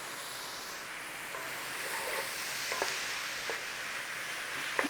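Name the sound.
sausage and mushrooms frying and being stirred in pan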